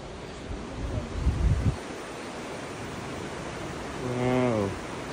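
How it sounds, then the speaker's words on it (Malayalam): Wind blowing outdoors around a house in thick hill fog, a steady broadband rush with a brief stronger gust early on and a short voice near the end. "കാറ്റ്"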